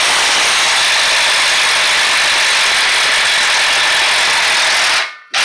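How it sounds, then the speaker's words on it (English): A pneumatic impact wrench runs loud and continuous on the front strut mount nuts of a 2013 Fiat 500 Pop, a steady broadband whir for about five seconds before cutting off abruptly. "Get this impact and get these loose."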